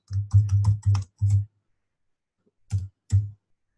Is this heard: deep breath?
no